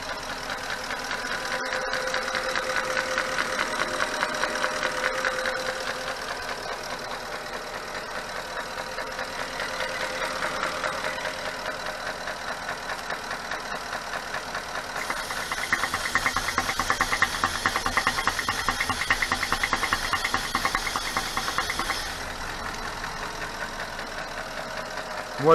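Porsche Cayenne 957S engine idling after a Ceratec treatment on a scored cylinder, a steady mid-pitched hum with faint ticking, heard close and fairly quiet with no talk.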